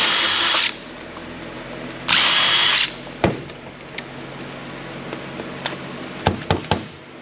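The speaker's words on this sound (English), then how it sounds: "finish getting these screws out" A power drill backs screws out of a credit card reader being scrapped for e-waste, with two sustained whirring bursts of the drill followed by sharp knocks and clicks as screws and parts are handled nearby.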